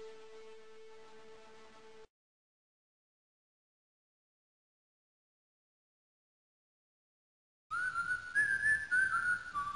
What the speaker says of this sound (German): zog ich um den Block und pfiff eine besonders schiefe Melodie, die ich selbst komponiert hatte